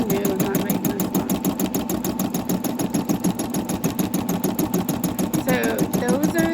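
An embroidery machine running a quilting cycle through layered fabric, giving a steady, rapid needle chatter that stays loud and even throughout, with a brief higher whir near the end.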